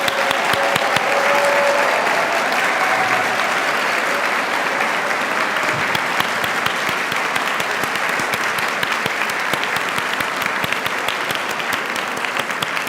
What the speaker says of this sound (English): let us show our support for these students with a round of applause.